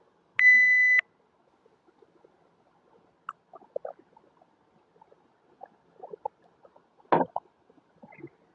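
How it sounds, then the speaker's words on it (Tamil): A loud electronic timer beep lasting about half a second as the timer switches on for a water-drinking challenge, then scattered faint clicks, gulps and a brief thump in a quiet room. "வாங்க இப்போ டைமரை ஆன் பண்ணுவோம்."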